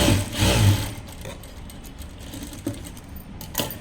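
A sewing machine runs in short bursts, stitching a small child's top, its whirring mechanical rattle close and steady, stopping and restarting a few times.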